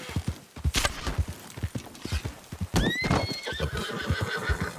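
A video-game horse whinnies sharply near the start and again midway, while hooves clip-clop in a steady walking rhythm underneath, close and clear.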